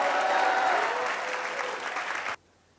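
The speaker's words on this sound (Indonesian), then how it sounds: "Tepuk tangan bagi Yesus kita." A church congregation claps in strong, sustained applause during a worship service, then the sound cuts off abruptly near the end.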